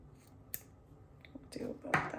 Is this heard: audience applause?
no